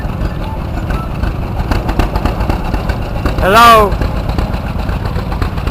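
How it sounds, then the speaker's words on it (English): A 1935 John Deere B tractor engine runs steadily at a hometown show, a low, even drone beneath crowd noise, with a short voice calling out partway through. "we have a 1935 John Deere B"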